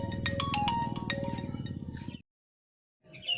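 A phone ringtone plays as a call goes unanswered, a repeating electronic melody that runs for about two seconds, falls silent, then starts again faintly.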